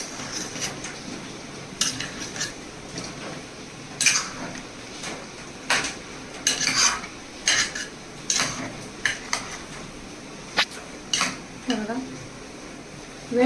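Stuffed eggplant being gently mixed in masala, a spoon or spatula clinking and scraping against a metal pan in irregular, sparse knocks, close and fairly crisp over a quiet background.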